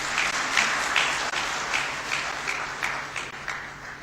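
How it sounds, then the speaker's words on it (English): A conference audience in Lahore applauds its sponsors with sustained, dense clapping from a crowd, steady and moderately loud throughout and fading slightly near the end. "give all of these sponsors a wonderful round of applause also for their support."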